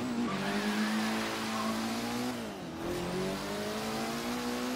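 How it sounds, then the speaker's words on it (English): A Mitsubishi Evo with an aftermarket exhaust in the Forza Horizon 3 video game revs hard and loud, its engine note climbing and dipping as it speeds through a residential area, with no talking over it. "Making sure that all of our neighbors hear how cool our new exhaust is, the Ractive exhaust."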